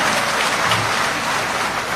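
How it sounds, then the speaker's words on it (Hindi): Audience applause at a rural political gathering welcoming a chief minister, dense sustained clapping with a rain-like wash, loud and close throughout with no voices. "एक बार जोरदार ताली हो जाके आदरणीय मुख्यमंत्री जी स्वागत करें"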